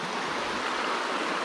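Mountain river stream flowing near its source in high mountain trout country, a dense continuous rushing of water, close and steady for a brief moment with no voices.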